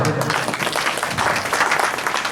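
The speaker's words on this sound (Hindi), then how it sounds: "दीदी के लिए ताली बजाओ।" Lively applause from a village crowd for a woman guest at a flag-hoisting and felicitation ceremony, dense, close clapping throughout the short burst.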